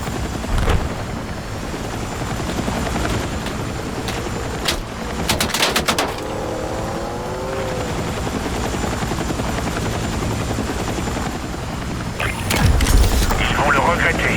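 A helicopter in the Battlefield RedSec video game hums with a steady, continuous rotor drone. Short bursts of gunfire cut in now and then, and voices talk over the din.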